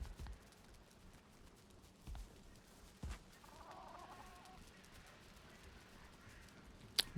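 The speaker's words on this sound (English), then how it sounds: "Why did my chicken just make a loud noise?" A chicken clucks in the video game Valheim, soft scattered clucks and a short burst of calls at moderate distance over a quiet background with occasional thumps.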